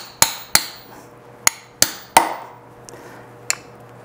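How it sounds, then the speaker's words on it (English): Sharp hammer strikes ring out on metal, packing bread into a hole to remove a bearing, five loud irregular blows followed by a couple of fainter taps, close and alone. "Now let me get a hammer."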